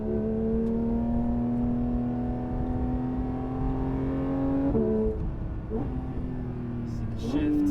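A Porsche 992 GT3 engine pulls hard on the road with a steady rising drone, then snaps through quick gearshifts where the pitch drops and climbs again, heard up close from inside the car.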